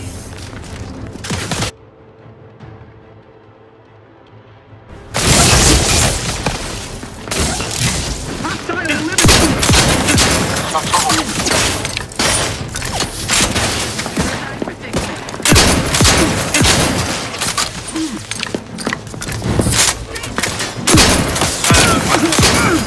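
A loud execution volley of gunfire in the video game The Outer Worlds 2: after a brief quiet lull, a massed fusillade of shots erupts and rolls on in dense, booming bursts that keep pounding without pause for many seconds.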